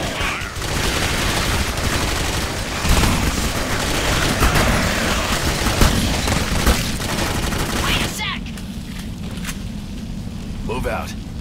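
Sustained gunfire in the horror shooter Clive Barker's Jericho roars loud and dense for several seconds with heavy bursts, then cuts off abruptly, while voices shout over it.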